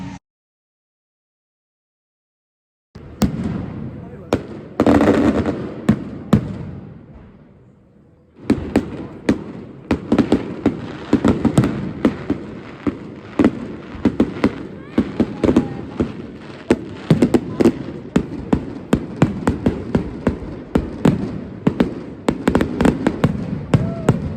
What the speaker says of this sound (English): Good little fireworks show there by Pleasure Beach to finish off the season.